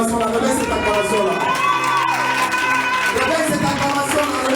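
A church congregation at a worship service cheers and acclaims together, a loud, continuous crowd roar with shouts and whoops layered over music, sustained throughout.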